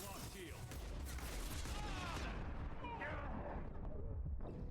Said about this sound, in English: Are there people up there shooting at me? I don't know where I'm taking fire from.